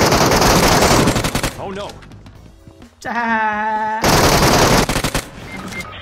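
Bursts of MK rifle fire in PUBG Mobile, loud rapid close shots in two spells separated by a pause, with a player's voice heard between them.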